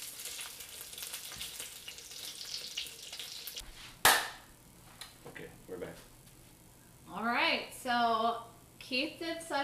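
Arancini balls fry in hot oil with a steady, soft sizzle and crackle that runs throughout, followed by a sharp knock, while voices talk over the second half.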